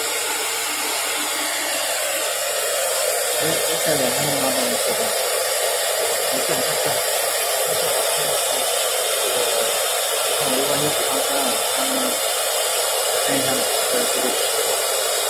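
A CNC router with a Syntec 6MB controller machining slowly, producing a steady, loud broadband whir that runs unbroken from start to finish with no pauses.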